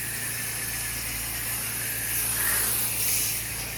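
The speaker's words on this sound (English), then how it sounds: "My surface cleaner ready to go." A pressure washer surface cleaner runs over a residential driveway, giving a steady, loud hiss of spraying water that swells slightly midway, with a low motor hum beneath and no talking.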